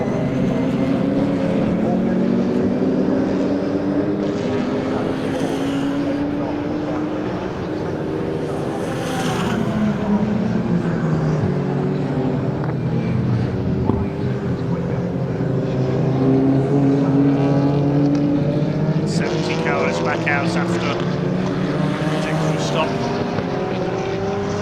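Two BMW race cars battle at Snetterton, their engines droning and rising and falling in pitch through gear changes, with a commentator talking over the continuous circuit noise.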